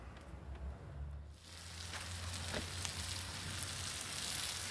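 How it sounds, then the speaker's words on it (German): Onions in melted butter and Sprite on a BBQ grill, a quiet background hiss at first that swells into a fuller, steady sizzle with occasional pops. "sodass die Flüssigkeit, sprich die geschmolzene Butter und die Sprite, jetzt so allmählich verdampfen können und die Zwiebeln hoffentlich ein bisschen Farbe annehmen"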